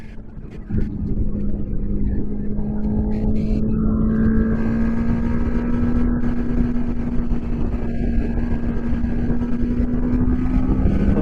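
A Kawasaki Ninja 650 motorcycle accelerating after a shift into fourth gear, its engine note rising steadily in pitch as a loud, continuous close drone under rushing wind.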